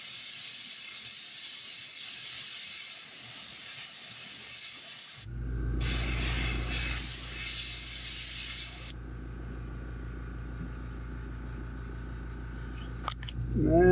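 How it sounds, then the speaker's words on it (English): Airbrush hissing as it sprays a pumpkinseed paint pattern through a stencil onto a bull shad fishing lure, a steady spray that stops, then resumes louder with a low rumble, and later falls quieter. "I'm mainly just spraying on the stencil."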